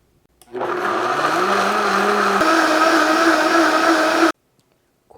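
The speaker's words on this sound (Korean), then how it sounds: "이제 곱게 갈아주시면 됩니다." An electric blender grinds soaked dates and soaked cashews into a smooth paste, a loud steady whirring roar lasting about four seconds, then cutting off sharply into silence.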